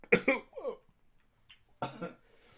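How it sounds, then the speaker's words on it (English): A person coughs in a short burst of harsh, rough hacks up close, followed by a pause and another throaty cough. "Cough attack"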